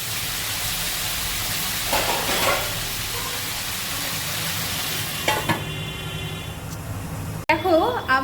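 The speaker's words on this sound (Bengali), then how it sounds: "এবার ব্যাপারটাকে আমি ভালো করে ঢাকা দিয়ে দিয়ে ভেজে নেবো, যাতে করে আলুগুলো তাড়াতাড়ি" Potatoes fry in a covered pan with a constant close sizzle like light rain, broken by a few stirring knocks and a lid clatter, and a voice speaks briefly near the end.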